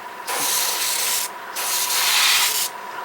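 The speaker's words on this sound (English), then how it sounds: "airbrush putting this stuff on" Airbrush spraying chipping medium onto a Trumpeter 1/16 Pz.Kpfw.IV Ausf H German medium tank model, giving two steady hissing bursts of air, each lasting about a second, close and fairly loud, with no talk.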